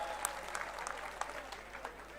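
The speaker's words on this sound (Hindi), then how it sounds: "जरा उसके लिए जोरदार तालियां बजा दो भैया एक बार" A political rally crowd claps steadily, a broad wash of many hands with scattered sharper claps standing out, at moderate distance and fairly faint throughout.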